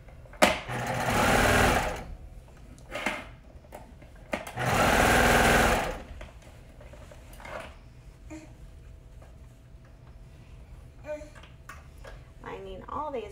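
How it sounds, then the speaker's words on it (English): A sewing machine stitches around the edges of a Blissey-themed shirt in two loud sustained bursts, each about a second and a half long, separated by quiet handling noises and brief speech. "Sewing all the way around."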